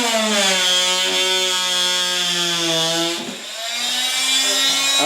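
A power saw making a plunge cut in wood, a loud whining motor with a tone that drops under load, briefly dips, then rises again, close and sustained.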